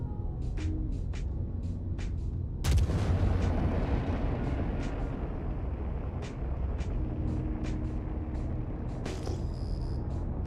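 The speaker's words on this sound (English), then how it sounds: "And you could see the missiles just avoiding hitting it" Missiles launching in the space game Star Citizen, with a heavy booming blast at one point and rapid ticking launch pulses before and after, all over a constant engine rumble.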